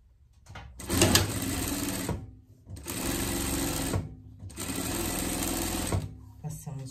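A sewing machine runs a gathering stitch through fabric for a pet summer dress in three steady whirring bursts of about a second and a half each, close and clear, separated by short pauses.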